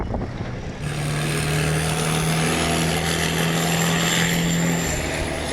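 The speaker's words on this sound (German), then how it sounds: "Der Gas gibt, was für ein Motor, ey." Boat motor on the water in Bangkok kicks in and roars loud and steady at close range, a strong constant engine drone with a whining tone lasting several seconds before easing slightly.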